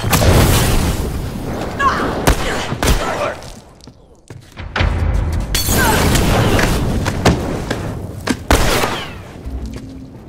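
A bomb goes off in multiplayer combat in The Last of Us Remastered, with heavy booms and thuds, then repeated sharp gunfire bursts and blasts through a chaotic, loud firefight, with brief quieter gaps.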